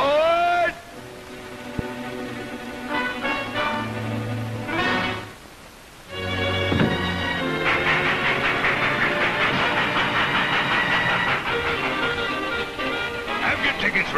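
A train rumbles and hisses steadily with clattering movement, joined by tonal whistle-like sounds and scattered voices, loud and close throughout.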